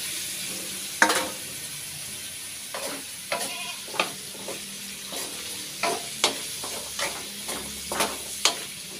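Squash tipped into a hot pan of oil sets off a steady close sizzle, broken by a series of sharp clattering stirs and scrapes at an uneven rhythm, with no voices.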